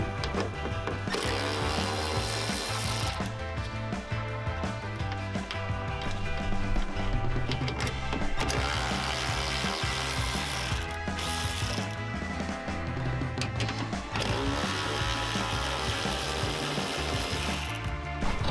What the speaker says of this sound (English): So I'll undo the bolts for now so that it's easier to access that.